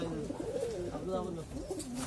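Pigeons coo in a coop, warbling throaty calls close by, with a voice audible over them.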